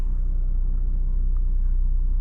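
Lexus IS350 with full bolt-ons and a tune under acceleration, heard as a steady, loud, low engine and road rumble from inside the cabin, continuous with no talking.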